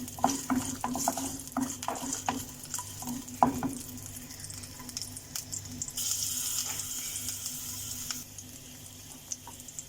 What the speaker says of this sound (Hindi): अब इसमें हम ऐड करेंगे जिंजर और ग्रीन चिली। इसे 1 मिनट भूनना,